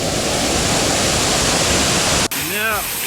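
Waterfall on the Seven Waterfalls hike in Juayua, a loud steady rush of falling water filling the air close by; near the end it briefly drops away and a voice speaks over softer water noise.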